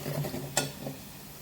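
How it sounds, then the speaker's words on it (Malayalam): Pickle powder, turmeric and asafoetida fry in a pan for gooseberry pickle, giving a faint, soft sizzle with a few scraping stirs and one sharp clink of a utensil against the pan. "പിന്നെ പച്ചമണം പോകുന്ന വരെ ഒന്ന് ജസ്റ്റ് നമുക്കൊന്ന് ഫ്രൈ ചെയ്ത് കൊടുക്കാം"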